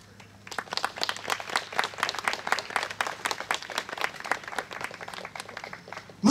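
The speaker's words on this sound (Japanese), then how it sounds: "それではお手拍子、お心拍子のほどよろしくお願いします" Audience clapping along in steady rhythmic time to a yosakoi dance team performing at an autumn festival contest, many hands together filling the whole stretch with a dense, even beat that ends in a louder burst.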